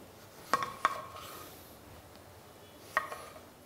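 Knife chopping tomatoes on a cutting board, two kilograms cut roughly for ketchup, with a couple of quick close cuts, a pause, then a single cut later, all fairly quiet.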